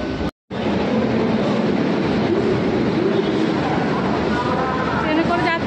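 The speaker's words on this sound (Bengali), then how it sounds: "ট্রেনে করে যাচ্ছি আজকে ক্লাসে।" A train carrying passengers rolls along with a steady, continuous rumble of wheels and carriage noise, close and loud throughout, with faint voices beneath it.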